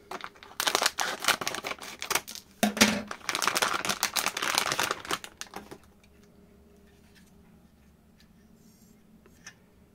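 Scissors snipping open a small plastic bag holding an SCR controller, a burst of crinkling and cutting for several seconds, close and fairly loud, then near quiet with faint handling.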